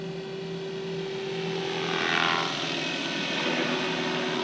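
A Red Goblin 500 RC helicopter flies in speed mode at 2600 RPM, its rotor and motor making a loud, steady whine that swells briefly as it passes, heard without voices.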